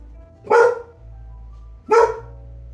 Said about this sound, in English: How do you straight wake up out of a nap like that and just go barking?